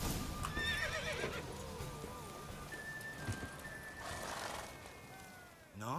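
A horse neighs and whinnies while galloping in the Witcher 3 video game, hooves clip-clopping under faint whistle-like tones and a continuous wash of ambient game noise.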